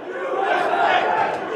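A large, dense crowd during the invasion of the US Capitol, a steady roar of many shouting voices close and loud, with no single voice standing out.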